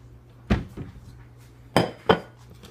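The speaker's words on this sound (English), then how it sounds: "I'm just going to grab a plate." A plate being taken out in a kitchen: a few close, sharp ceramic clinks and knocks, two early and two more a second later, with a faint steady hum behind.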